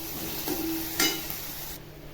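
Tomato and onion being sautéed in a pan for upma, a close sizzle with scraping stir strokes, including one sharp louder scrape near the middle, then the sound cuts off abruptly.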